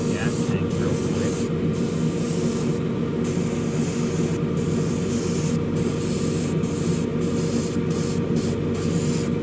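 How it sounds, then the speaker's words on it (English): An airbrush sprays steel paint onto the gas tank of a model Revell 1971 Boss 351 Mustang kit. The hiss is close and continuous, broken by brief pauses between bursts. "I have the steel mixed up in the airbrush. So I'm just going to do this gas tank real quick."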